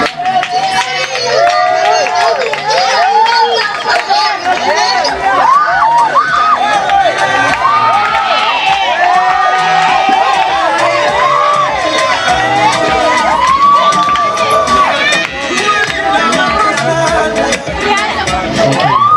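A crowd at a Christian testimony forum cheers, whoops and shouts loudly and continuously as a performer named Rocky is welcomed onto the stage, with many overlapping voices.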